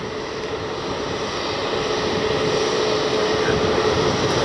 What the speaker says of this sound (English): Southwest 737 MAX just came in.